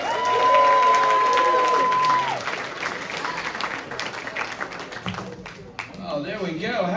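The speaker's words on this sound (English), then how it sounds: "A big warm round of applause for Mr." Comedy club audience applauding and cheering as a comedian is brought on, loud clapping at first that thins out as a voice speaks over it, with a sustained tone early on.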